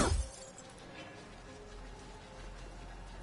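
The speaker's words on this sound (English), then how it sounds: "Glass can be broken." A glass pane breaks in the video game Horizon Forbidden West: a sharp shattering crash at the start, then a low, noisy rumble of game ambience.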